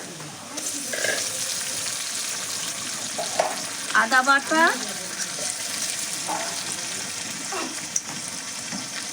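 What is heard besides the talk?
garlic and ginger paste spices sautéing in a pan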